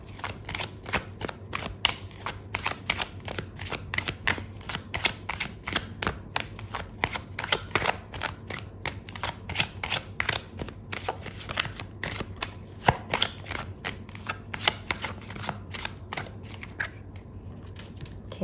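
Tarot cards are shuffled continuously, close up, in a rapid, rhythmic flutter of riffling and slapping that runs the whole time over a low, steady hum.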